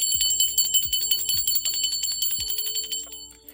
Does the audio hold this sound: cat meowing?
no